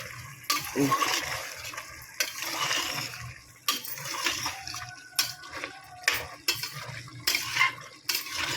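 Wet scraping and sloshing as chicken is stirred in a cooking pot for chicken biryani, coming in repeated bursts with metal knocks against the pan.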